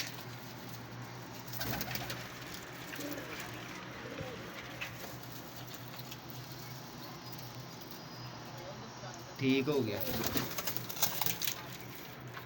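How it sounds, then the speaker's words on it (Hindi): A loft of some 33 pigeons coos steadily nearby, a low continuous murmur of calls that swells into a louder burst near the end, while a voice speaks briefly over the birds. "ये देख ले ये आपके सामने कबूतर है"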